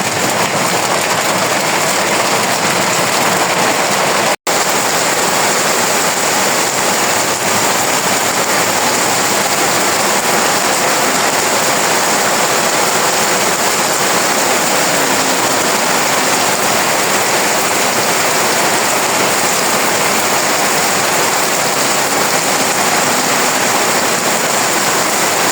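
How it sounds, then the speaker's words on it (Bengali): Heavy rain pours steadily over a rural village home where boiled paddy is being dried, making a dense, continuous hiss and roar throughout with no voices. "আর বৃষ্টি নেমেছে তো অনেক ব্যস্ততা"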